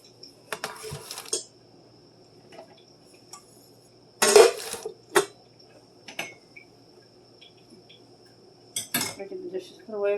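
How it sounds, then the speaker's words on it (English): Dishes are put away in a home kitchen, with sparse clinks and clatters of plates and cutlery separated by quiet pauses and a few louder knocks. "Get the dishes put away."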